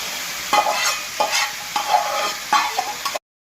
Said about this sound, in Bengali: ভাজা মুড়োগুলো, মাছের মাথাগুলো ভাজাগুলো দিয়ে দেওয়া হচ্ছে এর মধ্যে।